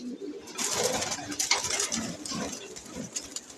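Pigeons thrash and flutter inside a cage, their wings producing a continuous rustling flapping close by, mixed with soft cooing.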